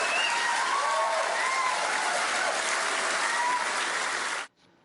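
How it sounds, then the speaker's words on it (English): A large crowd at a speech applauds and cheers in a thick, unbroken roar of clapping that holds steady, then cuts off abruptly near the end. "the crowd is cheering and laughing at Donald Trump"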